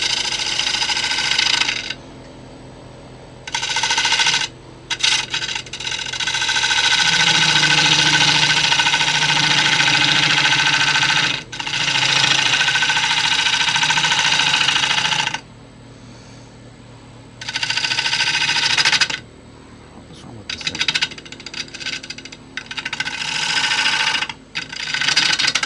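Wood lathe turning a fissured white oak yarn bowl blank with a gouge, a loud sustained scraping whir broken by several short pauses as the tool lifts off and cuts back in.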